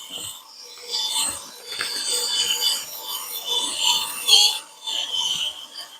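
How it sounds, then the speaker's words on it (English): A Let's Resin 4-in-1 sanding and polishing machine sands steadily with a continuous abrasive rasp, close and moderately loud, rising and dipping slightly as the piece is moved, with no talking. "So y'all, it's already starting to sand."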